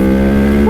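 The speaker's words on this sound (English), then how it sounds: "I love this motorcycle" A motorcycle engine drones loud and close during a ride, holding a steady pitched hum under rushing wind, with a second tone rising near the end.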